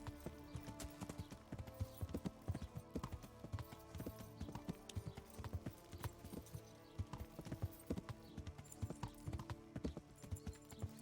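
Hooves of a horse named Roach clip-clop in a video game, a brisk, uneven run of clear hoofbeats sounding close and continuous throughout, with no talking over them.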